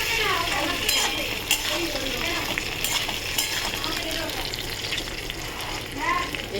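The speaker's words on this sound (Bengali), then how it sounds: "এবারে আমি এই কচু ভাজাটা দিয়ে দেবো। আলু ভাজাটা দিয়ে কিছু নাড়াচাড়া করে দিচ্ছি।" Taro and potato frying in a pan while being stirred: a continuous close sizzle with scattered scrapes and light clinks of a utensil against the metal.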